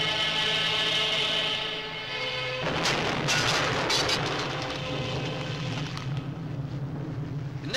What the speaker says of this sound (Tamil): அதுவா வெடிச்சது?